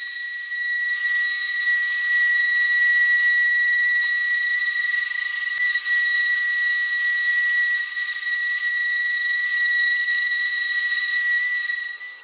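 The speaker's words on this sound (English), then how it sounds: "There's a lot of sanding." A power sander works on wood parts for a modern-style crib with a steady, shrill, whistling whine. It holds almost unchanged for about twelve seconds and then cuts off, with no voices.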